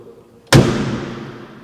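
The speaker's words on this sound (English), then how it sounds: "So let's close the door." Classic Mercedes 280 SL car door shutting with a single solid, close thud at once, its resonance fading over about a second, with no talk.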